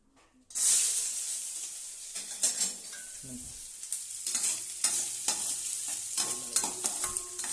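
Onions drop into hot oil for egg rice, setting off a sudden loud hiss that settles into a steady close sizzle, with intermittent scraping and clinking of a spoon stirring and no voices.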